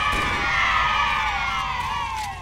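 Loud, sustained crowd cheering in the Halo video game during the second mission, filling the scene continuously with dense shouting and roaring before fading slightly at the end.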